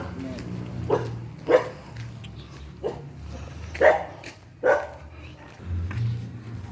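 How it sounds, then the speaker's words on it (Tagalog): Dog barking near a house, a handful of sharp, separate barks spaced irregularly over a low background hum, with people talking nearby. "may aso pa"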